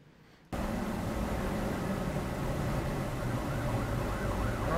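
An ambulance siren suddenly fills the air after a short quiet moment and holds steady and loud through the rest, heard from inside a vehicle on the road with a dashboard camera running.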